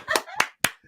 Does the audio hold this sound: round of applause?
yes